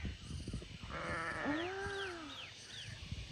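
A sheep bleats once, a wavering drawn-out cry, at an alpaca and sheep farm at Mon Jam, with birdsong chirping above it over a steady outdoor background.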